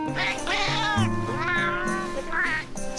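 Stretched, wavering meows from the talking cat in Metal Gear Solid: Peace Walker, several vocal phrases in quick succession, loud and close over a sustained musical backing.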